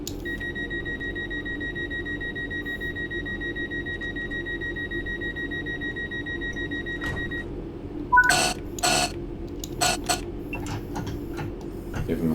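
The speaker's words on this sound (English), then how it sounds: "Give him a sarcastic buzzer back" A train cab buzzer in Train Sim World, aboard a West Midlands Railway Class 323 electric unit on the Birmingham Cross City line, holds a steady two-tone buzz for about seven seconds, followed by scattered clicks and knocks in the cab.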